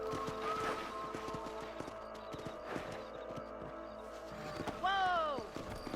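Horse hooves clip-clop at a steady walk across a ranch in Red Dead Redemption, clear rhythmic thuds under game dialogue, with a brief whinny near the end.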